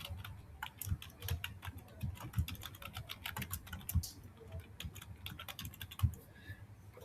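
Typing on a computer keyboard, a quick close run of light key clicks at an uneven pace with no voice.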